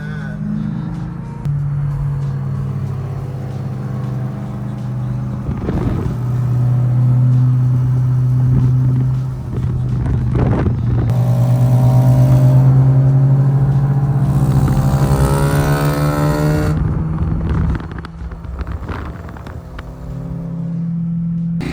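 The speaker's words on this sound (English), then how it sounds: "he needs to fix that exhaust leak though. It's bad." A Nissan 350Z engine with a bad exhaust leak rumbles steadily and loudly up close, with a rough, throaty drone that swells and revs now and then.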